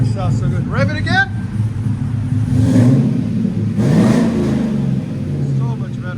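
Cold 2007 Chevy van with a cammed 6.0L V8 and Flowmaster 40 exhaust, two deep revving surges rising and falling over a rumbling idle, loud and close, with people talking over it.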